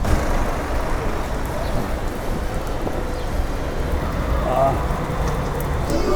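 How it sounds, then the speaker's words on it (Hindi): Rain pours down at a roadside bus stand on a route toward Panama, a steady broadband wash mixed with passing traffic rumble and faint background voices. "अब बारिश हो रही है और बारिश में भाई रोड के ऊपर खड़ा होना कोई मजाक का खेल नहीं है"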